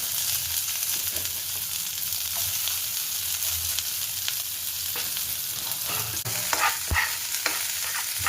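Cumin, mustard seeds, onion and garlic fry in ghee on an old Prestige tawa, giving a continuous loud sizzle broken up by spatula scrapes and stirring taps.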